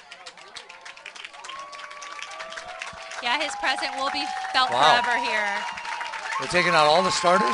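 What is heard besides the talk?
applause from fans at soccer game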